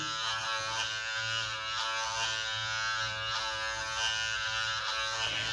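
Steady electric buzzing from a Skinvigorate electric facial cleansing brush switched on during facial washing, a continuous close hum running unbroken with no talk over it.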